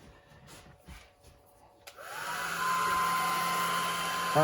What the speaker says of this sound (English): Barbie hair dryer, just to warm the vinyl a little bit.